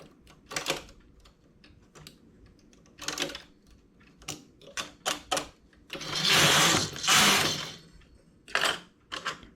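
Knitting machine carriage knitting the final lace eyelet row, sharp clacking sweeps and clicks in uneven bursts, with a longer loud whirring pass in the middle, close and without talking.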